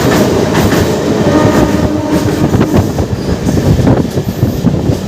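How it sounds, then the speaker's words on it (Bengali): Ernakulam Howrah Express passenger train rolling past at close range, loud continuous rumble with rhythmic clickety-clack of wheels over rail joints and faint squealing. "এটা হচ্ছে এনাকুলাম হাওড়া এক্সপ্রেস।"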